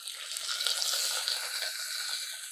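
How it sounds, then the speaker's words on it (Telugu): Small pieces of green chilli sizzle in hot oil for tempering while upma is being made, a steady bright hiss and crackle heard up close, loud and continuous. "పచ్చిమిర్చి చిన్న మీడియం సైజు ముక్కలు తరిగాను, అవి వేసేస్తాను"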